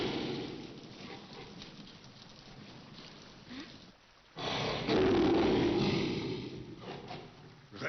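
A tiger roars in a French Jungle Book tale, a loud, rough, sustained roar bursting in after a brief hush and following a stretch of lower rumbling.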